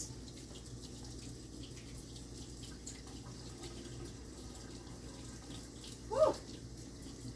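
Tap water runs softly and steadily over blueberries being rinsed in a kitchen, faint and continuous, with one brief louder splash or clunk near the end and no speech.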